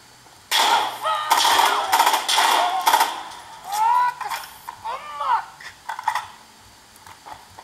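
Gunfire from the shooter game Insurgency Sandstorm plays through small laptop speakers: several loud rapid bursts of automatic fire, then scattered shots and clanks, all close and somewhat boxy.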